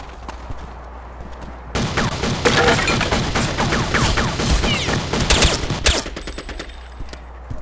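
Rapid gunfire in the shooter Counter-Strike: Condition Zero erupts after a quiet start, a loud close burst of automatic shots mixed with single cracks for about four seconds before cutting off into a faint tone.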